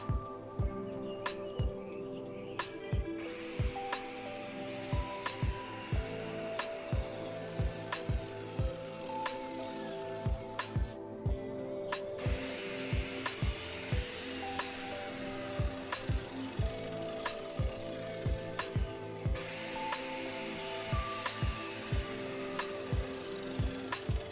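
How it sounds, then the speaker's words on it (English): A miter saw set to 45 degrees cuts angles in scrap wood for a shelving unit, giving a long run of loud, sharp, evenly repeated impacts with a steady whirring motor underneath and short quieter pauses between passes. "So I turn the miter saw to 45 degrees."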